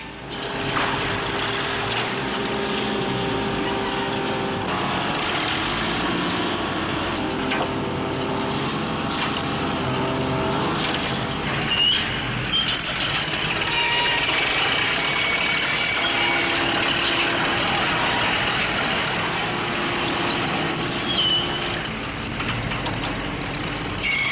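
A 600 horsepower crane engine roars loud and continuous while dragging a heavy rock block, with grinding, creaking and crunching layered over the steady mechanical drone and no talk.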